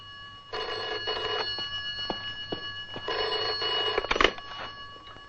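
A telephone rings in two long electronic bursts with a pause between, clear and fairly close, with a few faint knocks in the background.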